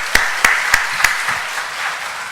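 A church congregation claps in encouragement during an afternoon worship service, a soft, diffuse spread of applause with a few sharper individual claps standing out near the start, steady and moderately distant.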